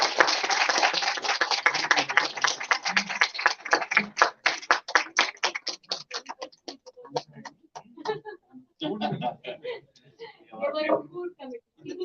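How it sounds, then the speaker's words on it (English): Scattered applause for committee members at a management conclave, starting as a fast, fairly dense patter of claps that thins into sparse, irregular individual claps mixed with voices talking. "A big round of applause for this committee members."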